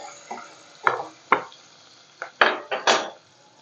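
Chopped onion is sautéed in hot oil in a pan for a Satara-style mutton curry. A spoon scrapes and knocks against the pan in about seven sharp, separate strokes, with a faint sizzle between them and no talking.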